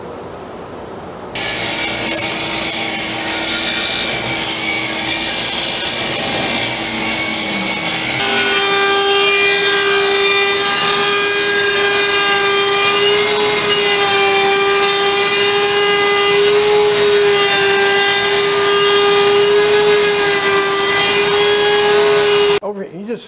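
A power saw cuts oak trim, running loud and continuous with a steady whining tone and a shift in pitch partway through as the blade bites into the wood, ending abruptly.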